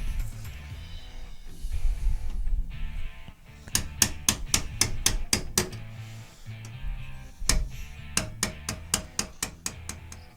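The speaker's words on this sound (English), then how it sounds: "So you can use like a hammer and a punch, maybe a small like dull chisel or something, and just tap it flat" A hammer drives a punch to tap a metal tab flat during a tailgate assist install on a truck, with bursts of sharp, ringing metallic strikes in quick regular series, loud and close, separated by brief pauses.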